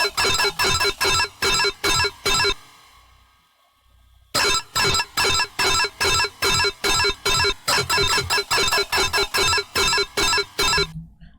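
A sidechained synth stab layered with a second synth part, pumping in rapid rhythmic bursts that duck and swell, loud and dense, with a brief near-silent gap in the middle before the pattern returns.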